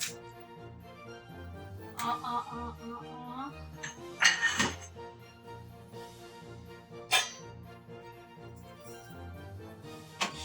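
Metal pan and utensils handled in a home kitchen while baking a fruit cake, scattered clinks and clanks of varying loudness at close range over a quiet background.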